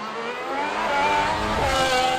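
Formula One race cars scream past on a track, their high-pitched engines rising and falling in pitch as they pass close by, loud and continuous with no talking.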